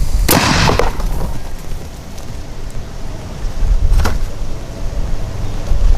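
A golf ball fired from a gun into oobleck: a sharp, loud blast near the start, then a second crack a few seconds later, over a steady outdoor background rumble.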